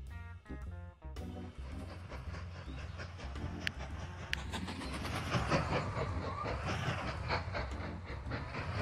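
Trains running on rails in the Mashinky transport strategy game, with steady rolling clatter and a rhythmic clickety-clack that swells from the start and holds loud throughout, a couple of sharp metallic clicks on top, and no voices.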